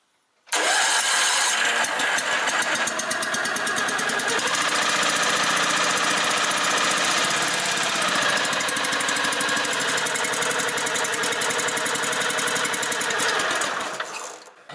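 A rebored Kyeyang G810 small farm engine starts up with a sputter and settles into a loud, steady running chatter close by, continuing without pause until it cuts off at the end.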